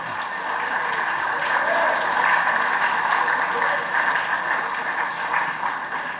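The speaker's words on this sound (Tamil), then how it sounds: "நீங்கள் எதற்கு கைதட்டுகிறீர்கள் என்று எனக்கு இப்போது புரியவில்லை" Audience applause rolls steadily through a Tamil public speech, a dense continuous patter of many hands at moderate distance with a speaking voice carrying on over it.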